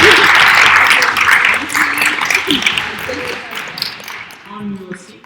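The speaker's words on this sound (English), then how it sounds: "they all deserve a round of applause" Debate audience applause swells loudly at once, then thins and fades over a few seconds as a voice begins speaking beneath the last scattered claps.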